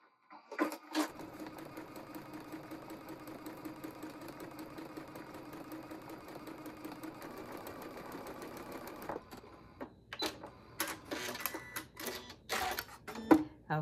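A sewing machine fitted with an M7 cloth guide stitches fabric along a scant quarter-inch seam, a steady close whirring run for about eight seconds, then broken into short start-stop bursts of stitching.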